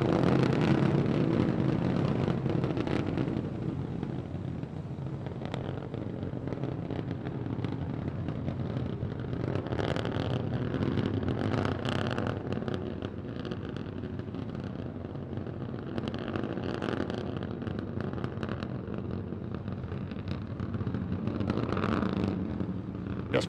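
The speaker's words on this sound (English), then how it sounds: "All three Raptor engines continuing to burn." Three Raptor rocket engines of the SpaceX Starship SN15 burn in flight, a continuous roaring, crackling rumble that holds steady and loud for the whole span with rough bursts and no speech.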